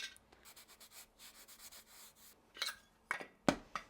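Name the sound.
applying abrasive wax to a wood-turned ornament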